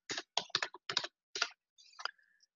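Fingers type a password on a computer keyboard in short bursts of close, crisp key clicks with brief pauses between groups, and no voices.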